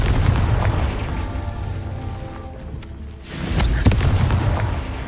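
Confringo blasting spell fired in the Hogwarts Legacy video game: a loud, booming explosion with a sustained rumbling roar, a brief lull, then a second burst of blasting with crackling debris.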